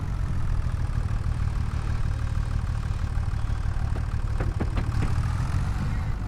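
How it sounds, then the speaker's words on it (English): A tractor engine runs steadily at a loud, close, low rumble during hay and straw work, with a few brief clanks partway through. "Now we're going to really test this tractor out."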